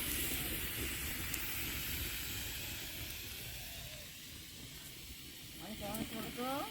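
A bamboo tube packed with chicken heats over an open fire, giving a continuous, fairly loud hiss of escaping steam, with faint warbling whistles rising toward the end.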